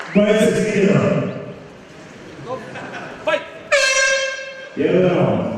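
A loud air horn sounds as the start signal for a kickboxing bout at a cup tournament, holding for about a second against an echoing arena, with an announcer's voice before and after it.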